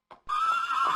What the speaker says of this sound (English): H sounds H as in horse.